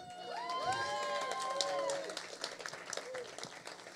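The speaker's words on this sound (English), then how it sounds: "And I invite you to join me in an applause, as you just did" Audience at a virtual gala applauding and cheering, with scattered clapping and a few whoops under a loud sustained whistle-like tonal sweep early on.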